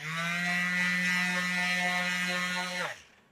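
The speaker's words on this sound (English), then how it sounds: "I'm glad that this sander has plenty of power to still not stall that" RIDGID 18V brushless 5-inch orbital sander running tipped on its edge, a steady loud motor whine with strong harmonics holding for nearly three seconds before winding down and cutting off.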